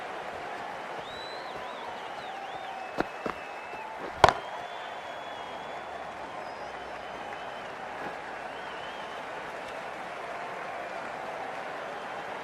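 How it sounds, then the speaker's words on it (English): Cricket crowd in the stands during an EWA vs IM match, a steady distant wash of applause and cheering that holds for the whole stretch, with a couple of sharp knocks or slaps standing out briefly near the start. "There's a buzz, a real buzz coming from the stands."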